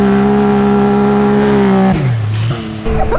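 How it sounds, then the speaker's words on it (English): A BMW X3 engine revs loud and steady, then the pitch drops and wavers as the car drifts, with a brief dip before the engine surges again close by. "Definitely got to get a little drift in this thing."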